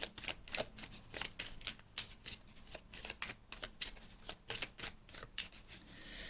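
A deck of cards being shuffled and drawn for a weekly Scorpio horoscope card reading: a quick run of crisp, close riffling bursts repeating steadily, with no voices.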